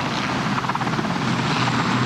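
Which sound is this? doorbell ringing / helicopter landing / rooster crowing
helicopter landing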